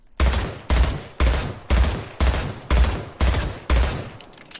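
A battle rifle in Splitgate fires at training dummies in seven evenly spaced, loud, booming bursts, each sharp crack trailing into a short decay, with no talking.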